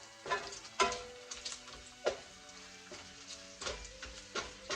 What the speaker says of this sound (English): So to this, I'm going to add my onions, and we're going to stir that in there.